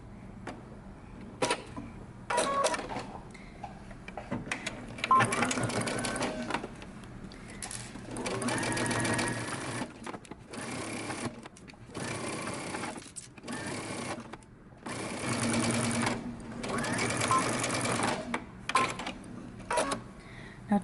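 A sewing machine stitches the band of a dress or romper in a series of short runs, each a few seconds of whirring separated by quiet pauses as the fabric is repositioned.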